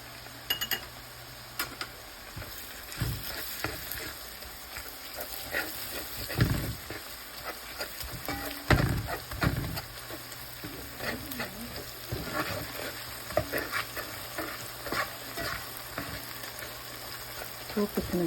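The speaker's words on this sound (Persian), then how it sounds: "تو بتونه تفت بدیم که بوی خامش گرفته بشه." Soft, steady sizzling of onions sautéing with turmeric in a pan, with occasional clinks and scrapes of a spoon stirring.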